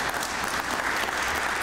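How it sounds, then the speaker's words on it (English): Dense, steady applause from an audience at a lecture on early African American life in Pittsburgh, a continuous wash of many hands clapping at an even level from start to finish. "Can I get an applause?"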